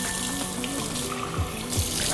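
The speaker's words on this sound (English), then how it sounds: "So we're just going to rinse it 3 or 4 times." Tap water runs into a bowl of rice being rinsed for a vegan biryani, a steady splashing flow with small sloshing bursts close by.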